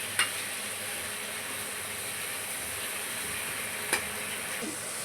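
Chicken with gongura leaves cooks in a pan, giving a steady, faint sizzle and hiss throughout, punctuated by two sharp utensil clinks against the pan.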